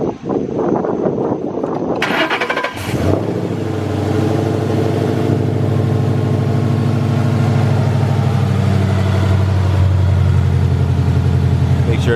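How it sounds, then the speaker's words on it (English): A Ford Mustang 5.0 V8, freshly fitted with a performance tune, cranks and fires up loudly, then settles into a steady, throbbing idle that carries on close by; talk is heard briefly before the start. "Turn the key off for 10 seconds, then start the vehicle."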